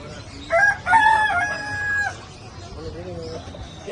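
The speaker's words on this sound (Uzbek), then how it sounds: "Bunadan tovuqlar bor ekan." A rooster crows loudly nearby in one long call, followed by softer clucking of chickens, with a voice murmuring faintly in the background.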